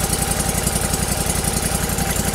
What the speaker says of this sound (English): but of course it's on idle. So I'm gonna slowly increase my engine speed here to give him ample flow.